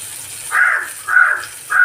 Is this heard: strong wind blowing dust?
no